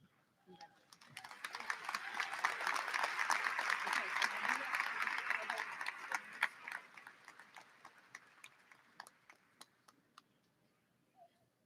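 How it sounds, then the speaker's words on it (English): Applause from a high school graduation crowd swells quickly, holds steady for several seconds, then thins out into scattered claps. "One more round of applause for Jackson"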